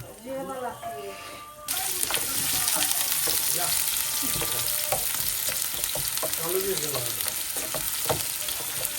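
Onion and red chili sizzle and fry in hot oil during a family get-together meal, a bright steady hiss that starts abruptly after a moment of kitchen chatter, with stirring clinks and voices talking over the cooking.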